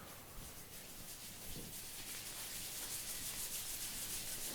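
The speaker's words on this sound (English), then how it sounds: "Rub your hands together, the bottom of your feet." Soft, continuous friction of palms rubbed briskly together during an exercise class, faint and steady with no voices.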